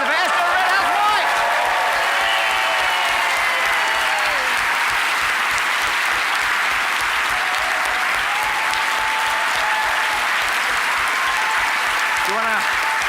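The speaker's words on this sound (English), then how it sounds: "You give them a huge round of applause." Sustained audience applause at a BAHFest London 2023 science comedy event, a loud dense crowd clapping steadily and filling the whole stretch without letting up.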